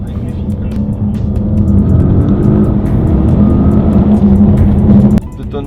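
An Audi S8 with 700+ horsepower rolls along at low speed, its engine giving a steady close-up drone with road rumble that cuts off abruptly near the end.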